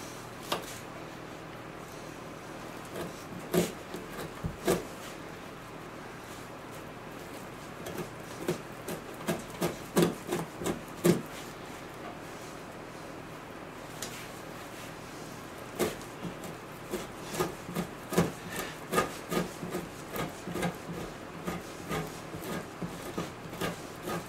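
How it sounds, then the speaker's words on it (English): A rough-skinned beaver pelt is scraped to remove flesh, making irregular rasping strokes and soft knocks that come in clusters with pauses, close by and fairly quiet, with no talking. "we can get a little bit more of it off by scraping"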